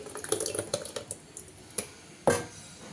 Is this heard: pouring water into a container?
yes